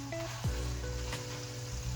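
Omelette with bacon bits sizzling steadily in a cast iron pan, a quiet close frying hiss with a faint clink of a utensil early on.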